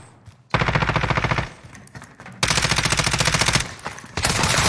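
Loud, rapid automatic gunfire from the video game Call of Duty: Warzone rattles in several long sustained bursts separated by short gaps, close and dominant in the mix.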